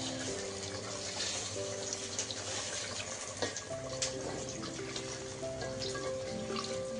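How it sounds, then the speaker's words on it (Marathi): Water splashing steadily into a pan of frying masala for a Marathi home-style fish curry, a continuous close-up pour with faint background clatter and no talking. "आपण याच्यामध्ये पाणी टाकून घेऊ."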